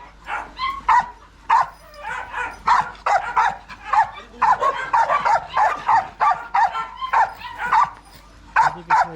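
A dog barks repeatedly in quick bursts with yips and whimpering whines, close and loud, with a steady rapid rhythm.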